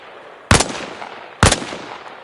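Two sharp rifle shots fired from a kneeling stance in a shooting-range video game, spaced about a second apart, each a loud close crack with a short decaying tail, no talk.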